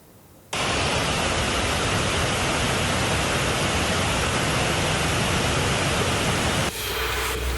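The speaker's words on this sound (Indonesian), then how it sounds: "Luapan sungai kembali merendam permukiman warga hingga membuat warga panik" Loud, dense rush of flood water from an overflowing river surging through a residential area in Pidie Jaya, Aceh, a continuous broadband roar that starts abruptly and holds steady before dropping off at the end.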